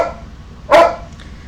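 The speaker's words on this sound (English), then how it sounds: "My dog apparently loves you too" A single short dog bark rings out close by and fairly loud, a brief sharp burst standing alone over a faint indoor background.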